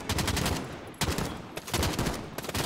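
Light machine gun fire from Call of Duty: Modern Warfare, with dense, loud bursts of rapid shots running almost continuously and broken by two short pauses.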